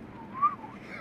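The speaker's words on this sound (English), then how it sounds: "Was that your attempt at whistling?" A short, faint whistled tone rises briefly in the middle, over low background murmur and room noise.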